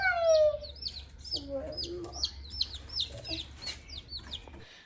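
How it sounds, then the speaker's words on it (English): Baby chicks peep and cheep in a small box on a spring farm, a steady run of high chirps close by, with a few lower fowl clucks mixed in. "these little baby birds poking and pecking at her fingers in their little box"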